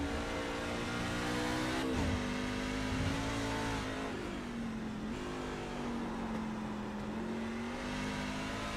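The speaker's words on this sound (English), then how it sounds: "Listen to the RPMs as he comes off the corners here" Racing truck engine in the iRacing truck series at Watkins Glen, a steady, loud drone of revs that rises and dips as the truck slides through corners, with no talk.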